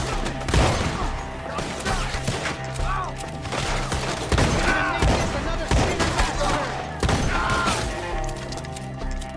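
Irregular gunshots from a Red Dead Redemption 2 shootout crack loudly in repeated clusters, with thuds and impacts between bursts.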